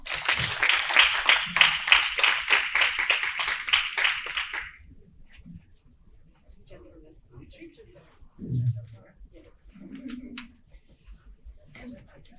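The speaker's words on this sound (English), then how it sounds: "Round of applause, please." Conference audience at an enterprise support forum giving a round of applause for the panelists, a dense burst of clapping lasting about five seconds that stops abruptly, followed by a quiet room with a few faint voices.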